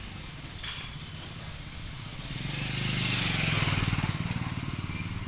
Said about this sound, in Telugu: జరిగే బైక్ వస్తుంది